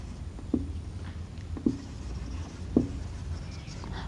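Chalk or marker tapping and writing on a board during a class 10 maths lesson, three distinct sharp knocks spaced about a second apart with soft scratching between, fairly faint over room noise.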